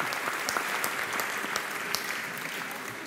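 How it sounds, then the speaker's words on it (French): Dense, loud applause from the audience at the Ballon d'Or 2022 ceremony, steady crowd clapping with no pauses for the full length. "allez, on l'applaudit"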